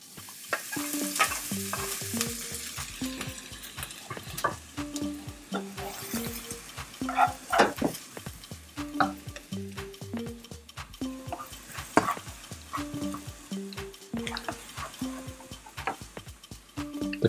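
Spices being stirred and fried in hot oil in a pan for deviled chicken, a close sizzle broken by repeated utensil scrapes and clatters against the pan, loud and irregular, with no one talking.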